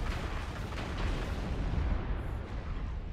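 Rapid PPC energy weapon fire from an ANH-1P mech in MechWarrior Online, a dense run of deep rumbling booms and bursts that overlap continuously, loud and close, with no talk.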